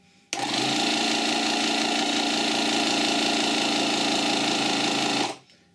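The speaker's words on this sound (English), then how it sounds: "We have a compressor, which as you can hear is a little bit low now." The small air compressor of a Streetwize SWPP5 jump starter, running low on charge, hums and buzzes steadily for about five seconds, then switches off; nearby and moderately loud, no voices.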